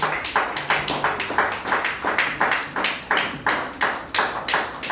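A church congregation claps for the Lord in a steady, rhythmic unison beat of about two claps per second, crisp and even throughout with no talking over it.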